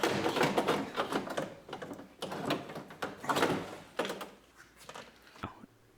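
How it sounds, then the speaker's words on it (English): Car window regulator being pulled out of a door panel: a run of metallic rattles, clunks and scraping knocks in irregular bursts, close and fairly quiet. "now you can just pull your regulator right out of the door"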